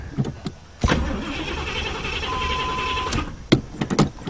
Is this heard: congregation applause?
no